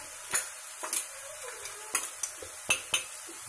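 A spoon scrapes and clinks against a pan while an amaranth leaf curry with peanut powder is stirred, giving six or seven sharp taps spaced out over a faint sizzle, with no talk.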